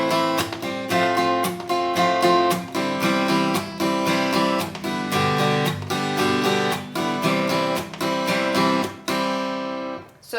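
Acoustic guitar strums through the intro of a song, a steady rhythmic pattern of full chord strokes for about ten seconds, played alone and up close.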